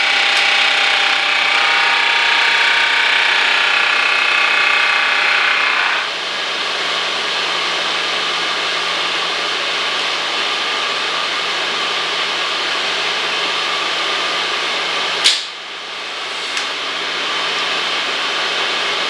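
A metal lathe turning a precision bushing, taking a light cut to sneak up on final size; a steady loud machining drone with cutting noise that eases after a few seconds, then a brief sharp clack near the end.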